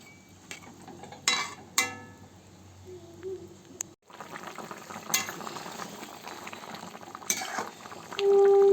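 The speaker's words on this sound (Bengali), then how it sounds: "আর দেখো সর্ষে বাটাটা ভালোভাবেই ফুটে গেছে" Koi fish in a mustard paste curry simmers in a pot with soft bubbling, broken by several sharp clinks of utensils against the pot and a few louder clattering bursts, with no speech.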